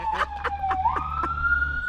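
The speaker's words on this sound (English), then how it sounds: "You hear the ambulance, eh?" Ambulance siren wailing continuously, a steady rising tone near and prominent, with faint talk and rustling underneath, outdoors on a farm in Jamaica.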